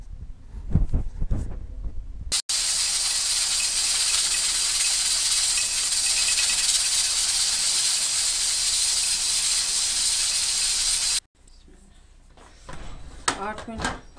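A loud, steady hiss of escaping steam from a pressure cooker cooking dal runs for about nine seconds, cutting off abruptly, with brief kitchen clatter and voices before and after.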